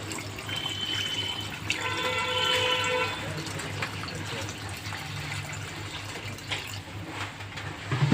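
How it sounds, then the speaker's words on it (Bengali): Water poured from a tap into a pot of yogurt chicken curry, a steady gushing splash lasting several seconds over a low background hum, close and moderate in level. "পরিমাণ মতো জল দেবো।"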